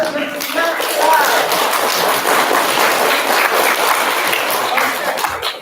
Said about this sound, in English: a final round of applause for Mr. and Mrs. Matt Clark